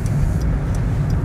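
Car engine pulling steadily and accelerating during an on-road driving lesson, a continuous low rumble heard close from inside the vehicle, with no talk.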